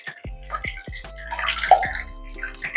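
Water trapped in hot oil in a wet cooking pot sizzles and pops loudly, with bursts of bubbling and crackling and a few deeper gurgles, close by.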